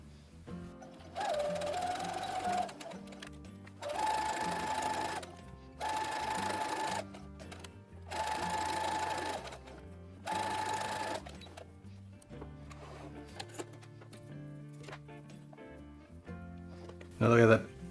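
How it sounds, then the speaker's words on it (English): A sewing machine stitching the sleeve of a Star Wars jumpsuit runs in five short bursts of rapid whirring, each a couple of seconds long with pauses between, followed by quieter handling noises. "This time we're going to stitch on the outermost chalk line and then flip everything inside out."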